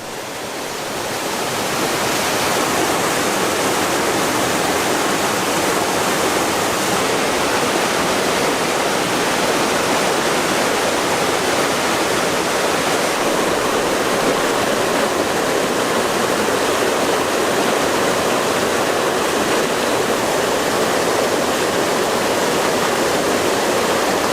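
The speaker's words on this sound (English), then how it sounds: "A lot of water coming out down there." Steady, powerful rush of spring water flowing out into the Eleven Point River in the Ozarks, a dense continuous roar that holds unchanged throughout with no voices.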